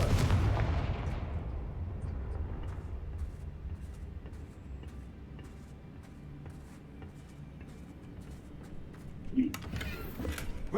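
A Confringo fire spell explodes in Hogwarts Legacy with a loud, booming blast at the start, then a lingering low rumble and faint crackling, with a second, smaller burst near the end.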